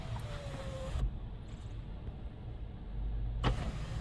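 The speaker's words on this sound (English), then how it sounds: "we'll tilt the sunroof up" The sunroof of a Lexus LX570 tilts up, its electric motor humming steadily for about two and a half seconds inside the cabin and ending with a soft click, with no speech.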